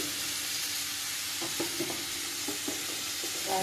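Okra fries in a pan with turmeric and chili powder added, making a soft, continuous sizzle broken by light scraping taps of a stirring spoon.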